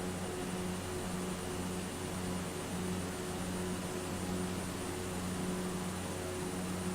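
Steady engine drone of a Cessna 208B Caravan in Microsoft Flight Simulator, flying over Alaska: a continuous, even hum with a broad noisy hiss on top, unchanging throughout and with no voices.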